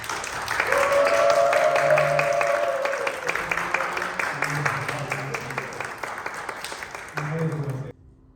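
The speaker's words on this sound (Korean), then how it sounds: "여러분은 사랑으로 환영해 주시고 크게 박수해 주시기 바랍니다." A church congregation applauds after an infant baptism at a Sunday service, sustained warm clapping from many hands that slowly tapers, with voices murmuring and some talk mixed in.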